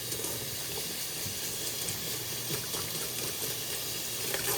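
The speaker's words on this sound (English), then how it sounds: "Quick rinse." Tap water runs steadily over a bunch of fresh cilantro being rinsed in a kitchen sink, a continuous close hiss and splash with no talk.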